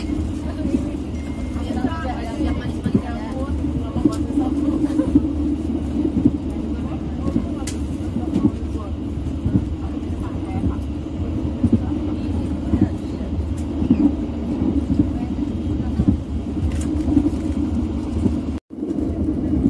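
A steady low rumble and rattle fills the interior of the moving KA Serayu passenger train on a night trip, continuous and fairly loud throughout, with a brief dropout near the end.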